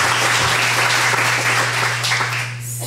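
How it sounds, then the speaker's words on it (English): A loud, full round of audience applause at a community panel discussion, dense clapping that holds steady then begins to thin out near the end, over a low steady hum. "can you please give another round of applause to what a wonderful group of people doing great things in our community"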